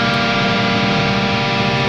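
A loud electric guitar riff, played with heavy distortion and high volume, a sustained saturated wall of sound that rings steadily for about two seconds with no talking.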